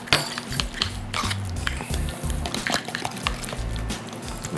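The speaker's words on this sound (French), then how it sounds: "On veut mélanger les ingrédients secs, pour que ça soit bien homogène." Small utensils clink and scrape against a mug while dry chocolate cake ingredients are stirred together, a steady close-up clatter with scattered brighter taps throughout.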